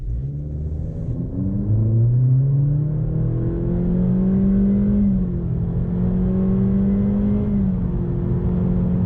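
A Honda Accord Sport with a 1.5 liter engine pulls away from a dead stop in sport mode, its engine note rising in smooth steady sweeps through the gears, heard from inside the car as a loud continuous drone with no talking.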